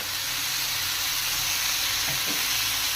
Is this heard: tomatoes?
yes